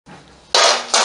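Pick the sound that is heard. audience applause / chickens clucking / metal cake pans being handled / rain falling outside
metal cake pans being handled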